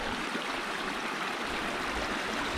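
A flowing creek at Reyes Creek Campground makes a steady, unbroken rush of water, close by and fairly loud, with no voices over it.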